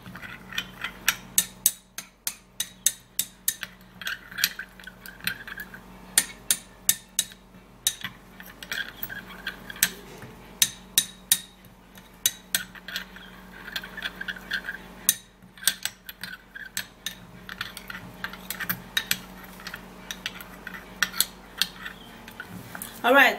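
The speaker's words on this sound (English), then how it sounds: "Then I'll stir it, I'll turn it." A spoon clinks and scrapes against a hard container as water is stirred, a steady run of sharp metallic taps and rattles, close and fairly loud, with no talking.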